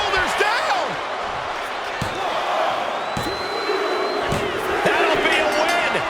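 Wrestling arena crowd roaring at an NXT event, a dense sustained roar with thuds and a commentator talking over it.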